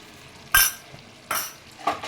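Cabbage and fish head curry being stirred in a pan, party-style: three separate scraping bursts of a spoon against the pan, evenly spaced over a quiet background.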